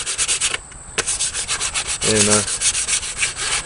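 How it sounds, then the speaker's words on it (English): A wooden ditch axe handle is lightly sanded by hand with quick, rhythmic back-and-forth rasping strokes, close and steady, with a brief pause partway through. "I'm gonna go ahead and sand it down real lightly and put another coat on it."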